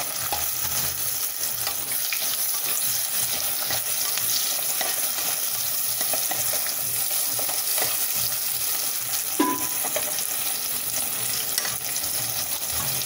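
Sliced large onions frying in oil for a Diwali mushroom biryani, a steady close hiss of sizzling that runs throughout with faint stirring scrapes and no voices.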